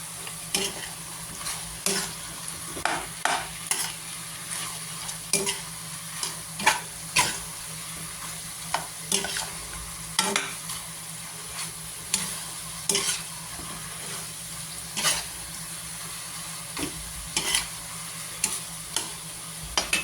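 Chili powder stirred into ginataan chicken adobo frying in a pan: a steady sizzle with repeated scraping strokes of the spoon at an irregular rhythm, close and fairly loud, with no talking.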